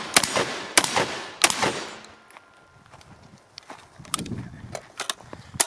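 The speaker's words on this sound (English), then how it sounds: "It is doing a very, very good job of cycling it, though not perfect." A GForce Arms AR12 semi-automatic 12 gauge shotgun fires birdshot in three sharp, loud reports in quick succession, followed by quieter clicks and handling noises.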